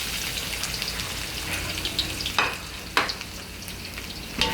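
Onion, garlic and ginger sautéing together in a pan for pork menudo, giving a steady, close sizzle with a couple of sharp pops and spatula scrapes, no talking.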